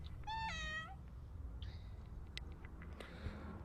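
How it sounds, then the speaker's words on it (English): A cat meows once, close and clear, followed by quieter soft shuffling and a few small clicks in a calm indoor room. "oh, here's my cat"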